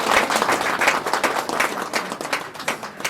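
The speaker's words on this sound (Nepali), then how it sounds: "हामी ताली बजाउने छौँ यो समय" A church congregation at a Nepali wedding claps together in a loud, dense burst with uneven surges during a marriage ceremony held amid heavy rain and hail.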